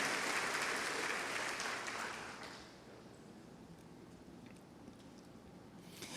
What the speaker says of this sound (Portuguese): E eu queria que você aplaudisse a Deus pelos recomeços de Deus nas nossas vidas.